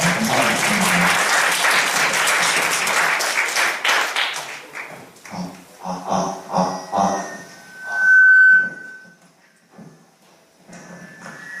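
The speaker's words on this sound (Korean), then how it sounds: "우리 멋진 강연 해주신 교수님께 큰 박수 보내주시면 감사하겠습니다" An audience claps for a professor after a lecture at a social science forum, a dense, loud burst of applause lasting about four seconds before thinning out into scattered claps, rustling and faint murmurs.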